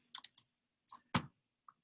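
Computer keyboard typing with text being entered: a few quick separate keystrokes, a pause, then a couple more clacks, one sharper, and a faint final tap, close up in a quiet room.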